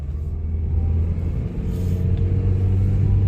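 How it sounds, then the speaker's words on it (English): An old snowmobile, a 340 Olympic with a triple-cylinder engine, runs up a road in winter, a steady close low engine drone that swells slightly as it pulls along, with no talk. "going up the road on this old snowmobile, just because I can"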